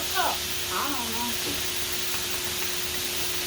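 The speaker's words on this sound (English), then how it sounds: "Get us sizzling up." Loud, continuous hissing sizzle of stir-fry with melting butter in a hot pan, with brief speech near the start.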